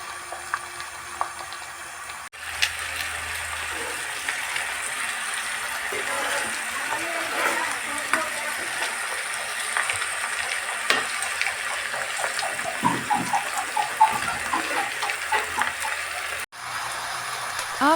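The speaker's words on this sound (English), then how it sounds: "First, cook the pork in pan." Pork sizzling in a 15-year-old earthen pan, a steady crackling hiss that fills the whole stretch with scattered pops, close and continuous.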